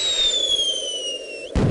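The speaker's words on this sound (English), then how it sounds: "we'll help Fraction Man launch the fireworks" Fireworks launch with a long descending whistle in an Edmark math CD-ROM game from 1998, ending in a sudden loud burst near the end.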